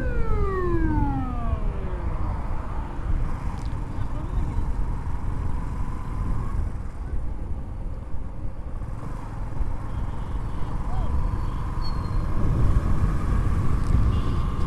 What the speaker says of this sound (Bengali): সাইরেন দিয়ে দিছে যে পিছনে অ্যাম্বুলেন্স আছে